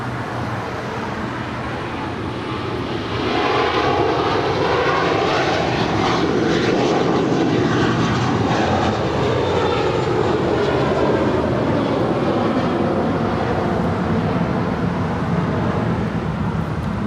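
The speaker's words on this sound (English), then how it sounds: "That was American Airlines flight 1871 and then A321." An American Airlines Airbus A321 airliner passes close by at LAX, its broad engine roar swelling after a quieter start and then holding loud and steady, with no talk over it.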